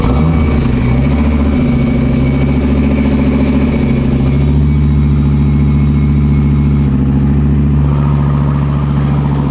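A powerful sports car engine starts up and rumbles steadily at idle, deep and loud, with small shifts in pitch as it settles.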